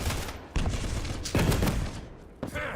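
Tri-bolt weapon fire in Quake Champions during a duel match, heard as several sharp, heavy bursts with abrupt onsets, loud and close amid continuous game noise.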